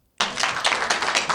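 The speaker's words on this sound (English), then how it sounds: "Okay, so now she's getting applause." A short burst of audience applause from a crowd at a campus discussion event, many hands clapping in a dense, even patter that starts abruptly and stays steady.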